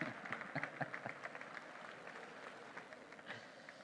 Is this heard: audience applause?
yes